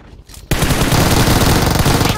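A sudden, loud burst of sustained automatic rifle spray in a mobile battle royale shooter, rapid rattling shots packed tightly for almost two seconds after a quieter lead-in, close and dominant.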